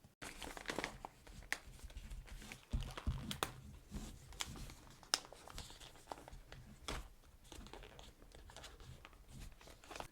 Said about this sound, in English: what do you say we rip into this bag and see how it smells?